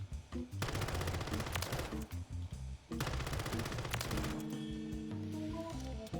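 Video game gunfire on a shooting range: loud, rapid automatic bursts in quick succession, with a short pause between strings of shots and no talking.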